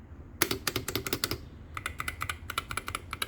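Someone types on a custom mechanical keyboard with unlubed linear switches, producing quick bursts of sharp, close clacks in two runs separated by a brief pause, with no talking.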